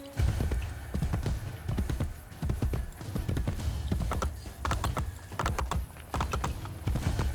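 Horse hooves clip-clop at a steady trotting rhythm in Assassin's Creed Brotherhood, close and clear, continuing for several seconds with faint game ambience behind.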